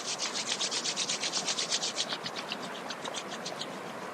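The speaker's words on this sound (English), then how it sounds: "and rub your palms." Palms rubbing briskly together in a yoga session, a rapid steady swishing that starts strong and gradually softens over a few seconds, close and alone with no talking.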